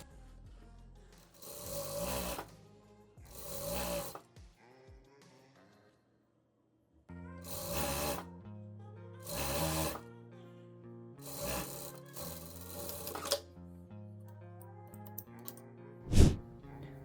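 A sewing machine stitches the side seam of a loose dress down to the hem in several short mechanical bursts separated by quiet pauses, close and fairly soft.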